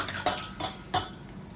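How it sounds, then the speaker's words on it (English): Kefir clabber poured into a cheesecloth for homemade cream cheese, giving three soft wet splashing pulses in quick succession with a quieter trickle between, close and moderately faint, no voices. "you're just gonna take that and pour it right into your cheesecloth"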